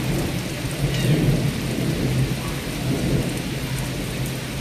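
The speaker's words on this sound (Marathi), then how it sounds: "कमी पाऊस पडतो पण जर पडला ना तर भरपूर पाऊस पडतो" Heavy Rajasthan rain pours steadily with deep rolling thunder rumbling underneath throughout, no voices.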